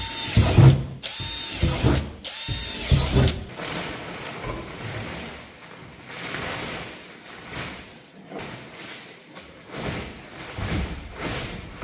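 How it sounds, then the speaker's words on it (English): A power drill bores holes through a plastic worm farm lid in two loud bursts at the start, followed by quieter handling, rattling and clatter. "what I'm going to do is just drill a few holes in the top of this"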